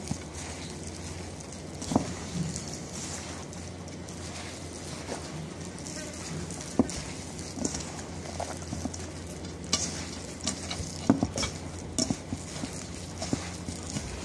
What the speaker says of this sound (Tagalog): And then i-mix natin maigi to.